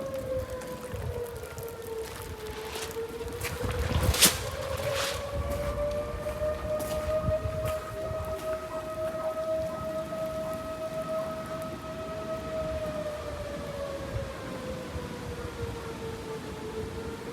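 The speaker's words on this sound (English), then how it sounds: "Sirens are going off now." Tornado warning sirens wail outdoors after a hard storm, a long steady rising-and-falling tone with harmonics that holds for the whole stretch, carrying from a distance over rain-like background noise.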